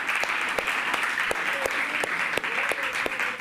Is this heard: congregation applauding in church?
yes